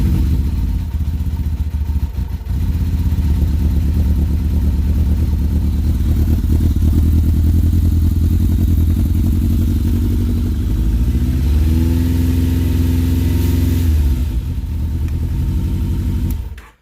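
Kawasaki ZRX motorcycle engine idling steadily indoors, a loud, continuous low rumble with faint clatter throughout, the pitch shifting slightly near the end before it cuts off.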